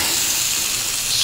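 Food sizzles loudly on a hot grill after a spray of oil, a dense, constant close-up hiss with no voices.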